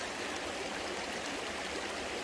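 Creek water runs steadily over quartz and black sand, a constant close rushing babble that fills the short stretch with no voices.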